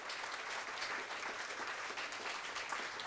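A university lecture audience applauds in a continuous, even wash of many hands clapping, heard at a distance and fairly faint, with no voices on top.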